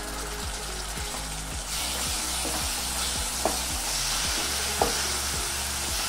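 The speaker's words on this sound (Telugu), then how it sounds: "టొమాటో పచ్చిదనం పోయి నూనె పైకి తేలేంత వరకు వేపుకోవాలి" Chopped tomatoes fry with spices in hot oil for potato curry, a steady loud sizzle with a few stirring scrapes and knocks against the pan.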